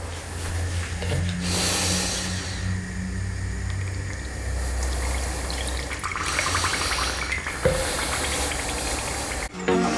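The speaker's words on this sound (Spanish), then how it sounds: "Ahora vamos a poner a nuestro jarro 150 mililitros de agua" About 150 ml of water pours into a jug for dissolving corn sugar to prime home-brewed beer, a steady hissing, splashing fill that runs nearly continuously at close range, with brief shifts in flow.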